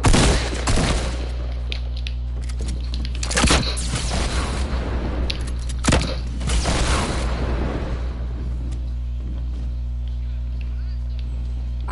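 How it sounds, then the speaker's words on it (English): Gunfire and RPG blasts in a multiplayer shooter video game sound as a steady barrage of shots and booms over a constant low hum, with several players talking over the action throughout. "He's shooting RPG like crazy."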